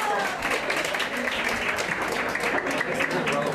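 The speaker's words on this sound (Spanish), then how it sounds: "Fuerte el aplauso de nuevo." An audience at a college singing competition final claps loudly in a dense, continuous ovation, with some scattered voices and cheers mixed into the clapping.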